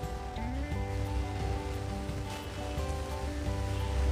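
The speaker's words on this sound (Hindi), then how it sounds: "इसके बाद मैं 1 गिलास पानी और इसमें ऐड कर रही हूँ।" Water poured from a glass into a pot of mutton pulao gives a steady splashing rush throughout, close and moderately loud, over a faint background hum.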